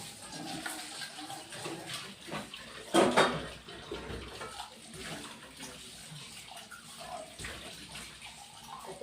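Running water in a home kitchen during dishwashing, a continuous splashing flow with brief louder gushes and clatter, heard fairly close throughout.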